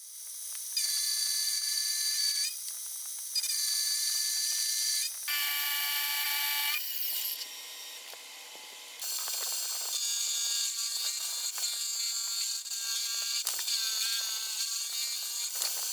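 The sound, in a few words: milling metal with an end mill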